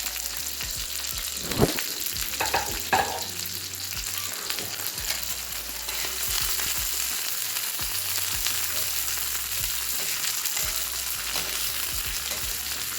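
Garlic and tomatoes fry in a pan for a Maharashtrian green chilli and tomato thecha, giving a continuous close sizzle with scattered stirring knocks and a louder clatter early on.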